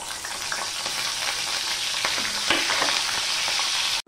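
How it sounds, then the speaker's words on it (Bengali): Potatoes frying in oil in a pan make a steady, close sizzle that runs throughout, with a few soft clinks and scrapes from stirring partway through and no speech. "সবার প্রথমে আমি আলুগুলো ভেজে নেব।"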